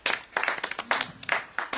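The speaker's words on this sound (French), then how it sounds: "je mérite des applaudissements" A few people clap at a close-up magic trick, irregular sharp bursts of handclaps with brief gaps between them, near and fairly loud.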